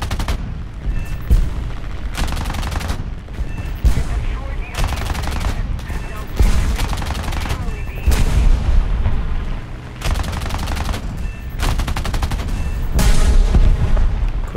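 A Fiat CR.32 biplane's machine guns fire in War Thunder, several loud rapid bursts of a second or two each separated by short gaps of engine drone, with no talking.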